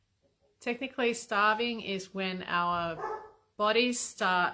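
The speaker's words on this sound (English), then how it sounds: "sorry for the dog barking." A dog barks in the background, a few sharp barks partly masked by someone speaking steadily close to the microphone.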